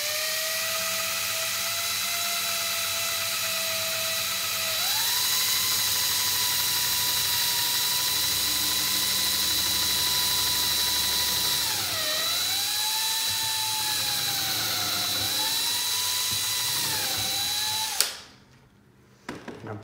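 A power drill whines steadily as it bores holes into a broken chair, its pitch stepping up and dipping as the bit bites, running continuously before stopping abruptly near the end.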